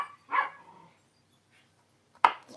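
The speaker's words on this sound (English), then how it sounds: "My little dog." A small pet dog named Betty gives two short, sharp yaps separated by a long silent pause, close and fairly loud in a quiet home kitchen.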